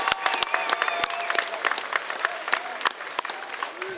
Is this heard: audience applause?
yes